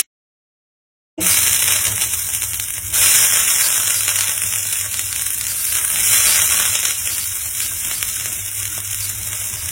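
Oil and a splash of salt water hit a hot dosa griddle, bursting into loud, crackling sizzle after a second of silence, then settling into a steady hiss that swells briefly a couple of times.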